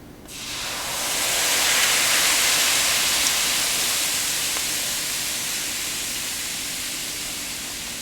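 IPA beer poured into a hot pan to reduce, bursting into a strong hiss of steam and bubbling that swells quickly, then holds steady and slowly eases off.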